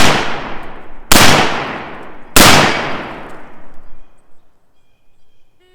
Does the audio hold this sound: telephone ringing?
no